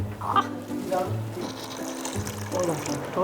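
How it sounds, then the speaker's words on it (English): A little water goes into a pan of chicken curry being cooked Sri Lankan style, with a soft splashing trickle and faint sizzle running under voices talking close by. "I think we'll add a little bit of water."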